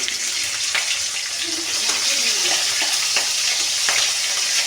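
Green chilies sizzle and crackle steadily in hot oil with whole-spice tempering while cooking a Bengali bottle gourd greens dish with shrimp, a loud continuous fry with faint stirring clicks throughout.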